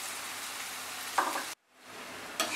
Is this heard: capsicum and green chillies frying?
yes